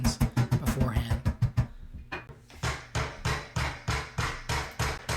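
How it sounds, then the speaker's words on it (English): Rubber mallet hammering tongue and groove flooring boards into place, a rapid cluster of sharp knocks followed by a steady run of evenly spaced, fairly loud thuds. "hammering it down with your mallet"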